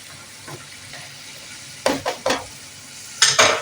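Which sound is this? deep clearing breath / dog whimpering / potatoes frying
potatoes frying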